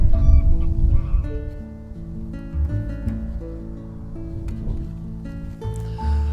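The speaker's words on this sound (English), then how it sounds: "I've just seen a flock of geese fly in" A flock of geese honks loudly and repeatedly in spring at the Humberhead Peatlands, with overlapping calls forming a steady nearby chorus and no talking.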